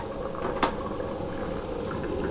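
A single pot of rice and peas boils hard with a steady, dense bubbling hiss and a brief sharp crackle partway through.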